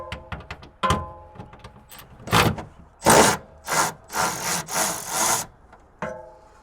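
Bolts being loosened by hand tools on a Thermo King reefer unit, giving a series of close scraping, grinding bursts of varying length with clicks and metallic knocks between them, with no talk.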